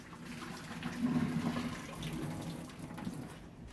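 Water from boiled potatoes is poured off from a pot into a sink, a close gurgling splash that swells and fades over a few seconds with no talking.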